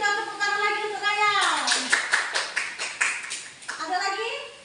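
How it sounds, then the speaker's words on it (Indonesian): A classroom of high school students claps for a classmate, a burst of rhythmic group applause with distinct beats, while a teacher's and children's voices are heard before and after it. "kita tepuk tangan lagi untuk Raya"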